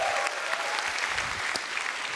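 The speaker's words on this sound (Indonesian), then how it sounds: "Sekali lagi tepuk tangan boleh untuk Hifzi?" An audience at a stand-up comedy show applauds a comedian with a brief, dense burst of clapping that stays steady and moderately loud throughout.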